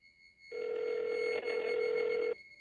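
A telephone ringback tone sounds as a call is placed: one steady electronic ring lasting about two seconds, clear and alone, with silence on either side.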